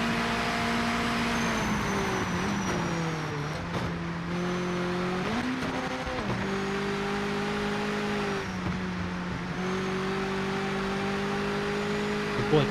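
Race car engines in Project Motor Racing, a loud, sustained howling drone whose pitch drops and climbs with each gear change and throttle lift, steady and close throughout.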